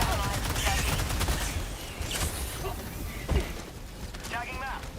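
An autocannon in the Helldivers 2 video game fires a rapid series of heavy, punchy shots at a bug during a Helldive-difficulty mission, with one especially loud blast near the end, close and loud under chaotic game noise.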